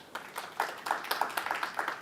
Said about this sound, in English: everybody please give him another warm round of applause